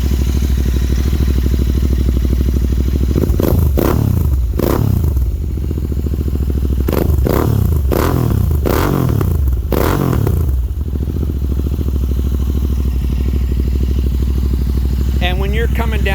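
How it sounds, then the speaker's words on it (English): A Continental GT 650 with a Red Rooster exhaust idles with a steady rumble, then barks through a series of sharp, loud revs in quick succession before settling back to idle. "let's rev this sumbitch up."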